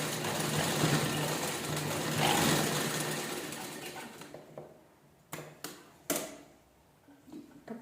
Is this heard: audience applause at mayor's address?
no